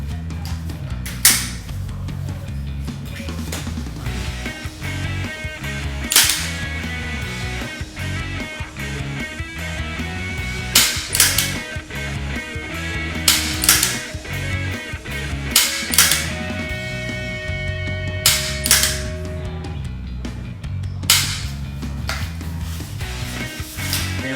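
A rifle is dry-fired during shooting practice with a magazine, giving a string of sharp mechanical clicks and clacks at irregular intervals over steady background noise, with some louder snaps among them.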